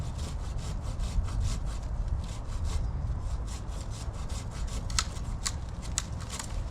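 A very sharp-toothed pruning saw cuts through small pieces of wood in steady, rapid back-and-forth rasping strokes, close and loud throughout, with no talk.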